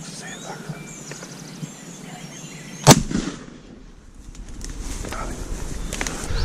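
A single sharp, loud gunshot rings out during a turkey hunt outdoors, cutting through quiet ambient noise and fading into a short rumbling tail, with low voices and rustling nearby before and after.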